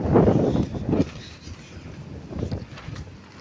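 Strong, cold night wind on a dark beach at Digha, buffeting the microphone with a low, rumbling roar that swells and eases in gusts. No one speaks.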